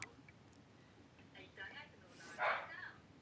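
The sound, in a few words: dog barking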